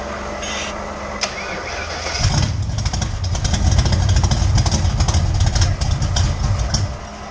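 A 1979 Ford Mustang turns over under the starter for a couple of seconds before the engine catches. It then roars into a loud, rough, rumbling run close by.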